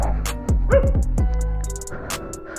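Dogs at home let out a quick, close series of yips and barks with a whimpering edge, a few sharp calls packed into a couple of seconds.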